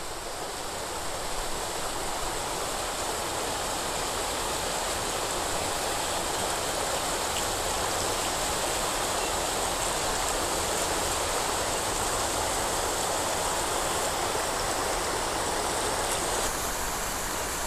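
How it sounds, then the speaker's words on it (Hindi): Steady, continuous rush of water pouring into a pressure cooker outdoors, loud and unbroken throughout with no talking. "अभी हम इसके अंदर पानी डालेंगे।"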